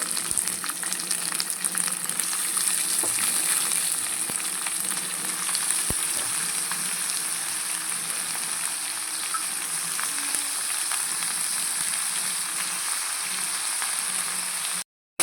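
Cabbage fries in a pan, giving a continuous loud, hissing sizzle with a few faint stirring clicks, and then cuts off abruptly at the end.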